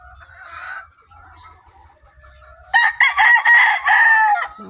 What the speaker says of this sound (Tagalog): papakita ko sa inyo yung mga manok